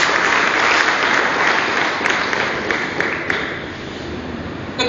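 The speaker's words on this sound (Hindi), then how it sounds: "उनके लिए तालियां हो सकती है दोस्तों।" Audience applause at a business seminar, sustained dense clapping from a large indoor crowd that stays loud for the whole stretch and tapers slightly toward the end.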